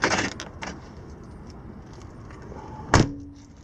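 A manual door lock on a Mitsubishi Galant VR4 is pushed down by hand, giving a couple of soft clicks early on, then one sharp, loud clunk near the end over quiet background.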